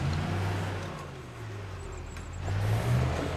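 A truck engine in Farming Simulator 25 hums and revs while reversing, a steady low drone that swells near the end.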